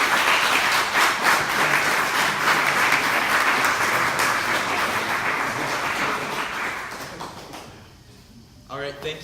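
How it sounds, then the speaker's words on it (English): Audience applause fills a lecture hall after a talk on Russell Kirk, dense steady clapping from a crowd that fades out near the end as a voice resumes. "Once more, just a round of applause for Dr. Birzer."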